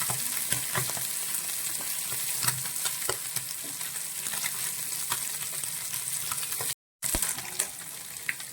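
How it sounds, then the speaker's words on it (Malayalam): Fish coated in stone-ground masala frying in a pan, a continuous close sizzle with occasional crackles and stirring scrapes, briefly cut off near the end. "മസാല ഇതുപോലെ ചേർത്തൊന്ന് ഏത് മീനായാലും ഒന്ന് വറുത്ത് നോക്കണം"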